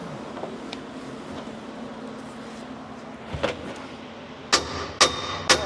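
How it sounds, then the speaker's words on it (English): A hammer taps steel roll cage tubing being fitted in a car: after a quiet stretch with a low hum, three sharp, ringing metallic strikes land about half a second apart, close and distinct. "Tap it with the hammer."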